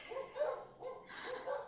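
A dog barks repeatedly in the background, a series of sharp yips and woofs in uneven bursts, moderately loud and alone without talk.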